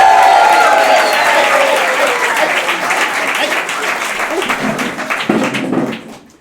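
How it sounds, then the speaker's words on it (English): A live comedy show audience applauds and cheers as a player is welcomed on stage, loud sustained clapping from a crowd that tapers off after about six seconds, with a voice rising over it at the start. "give them a big round of applause"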